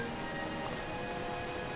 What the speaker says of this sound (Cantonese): 好細雨啫嘛。